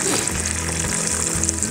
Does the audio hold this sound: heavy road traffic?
no